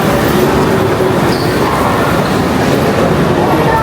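A train rolls past near Namba in Osaka, a loud, continuous rumble of rail noise with a brief squeal, close by and filling the whole moment.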